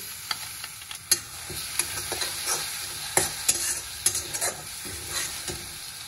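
Chili and ground spice paste sizzle in hot frying oil for a Maharashtrian fenugreek and moong dal dish, a steady crackling fry broken by repeated clinks and scrapes of a stirring spoon, close and loud.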